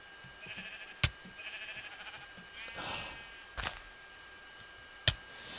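Sheep in the video game Minecraft bleat a few times, short wavering calls, with a couple of sharp clicks in between against a quiet background.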